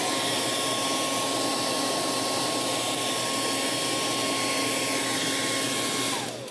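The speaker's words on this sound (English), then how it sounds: "So I'm hitting with this hairdryer." A hairdryer blows steadily on a painted sculpture, giving a loud, constant whooshing whine with a fixed motor tone, then switches off near the end.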